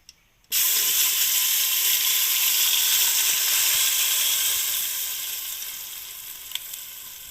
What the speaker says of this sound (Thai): เนี่ยใส่น้ำมันลงไปครับ เราก็จะนำเนื้อปลาที่เราปั่นลงไป